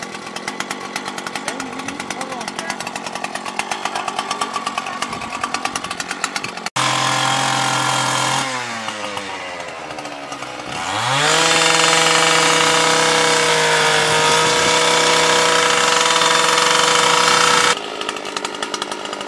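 Demolition breakers and power cutting tools working during an earthquake rescue drill, loud sustained motor whine and grinding that shifts pitch and intensity across several passes, close and dominant.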